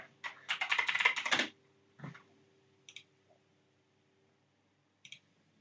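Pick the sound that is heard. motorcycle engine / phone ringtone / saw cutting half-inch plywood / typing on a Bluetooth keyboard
typing on a Bluetooth keyboard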